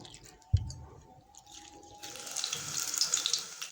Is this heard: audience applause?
no